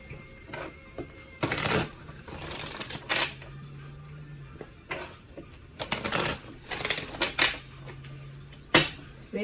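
Romance Angel Oracle cards being shuffled by hand, with repeated bursts of riffling and slapping separated by short pauses, close and fairly quiet, with no talking.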